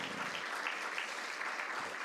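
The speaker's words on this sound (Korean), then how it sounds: "우리 큰 박수로 축복해 주시기 바랍니다" A church congregation applauds in a dense, steady wash of clapping that fills the whole moment at an even level.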